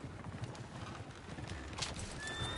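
Horse hooves in the video game Red Dead Redemption 2 clop in a quick, uneven rhythm at moderate distance, with a faint neigh under a steady ambient background.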